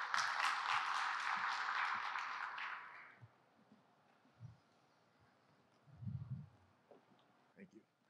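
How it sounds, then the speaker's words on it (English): Audience at a cybersecurity conference talk claps for the introduced speaker, a fairly close burst of applause for about three seconds that fades out, followed by quiet room noise with a few faint thumps. "Let's give a big round of applause for Mr."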